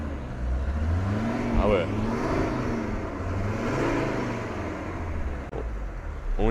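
A Mercedes 190D diesel car with about 600,000 km runs with a steady low engine drone that rises and falls slightly, as if idling or driving. A brief voice speaks over it.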